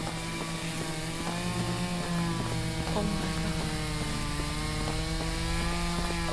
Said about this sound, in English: That fucking chainsaw.